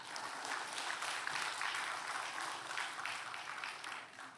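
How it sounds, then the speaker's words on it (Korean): Applause from a church congregation during a Sunday service, a steady wash of many hands clapping at moderate distance for several seconds. "박수 한번 쳐."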